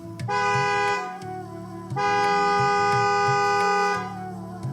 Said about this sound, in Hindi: अब ड्राइवर साहब ने हॉर्न बजाया।